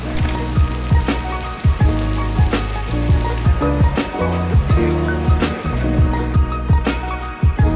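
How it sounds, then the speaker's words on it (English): Rain patters and drums on a nearby surface at an endurance car race, dense irregular drops with heavier knocks, steady throughout with no voices. "Hopefully the rain will pass and we'll be ready to go soon."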